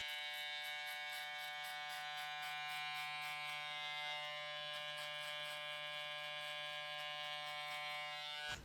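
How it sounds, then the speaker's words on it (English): Hair clippers with the blade open buzz steadily while cutting a mid drop fade, a close, even electric hum that holds without a break and stops at the very end. "now we're gonna come in with our clipper open, and we're just gonna follow that same line we did with the ball line"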